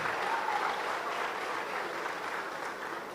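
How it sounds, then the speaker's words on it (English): Steady audience applause during a panel session at the Edo Innovates tech conference, a moderately loud, even wash of many hands clapping for about three seconds without speech. "A round of applause, please."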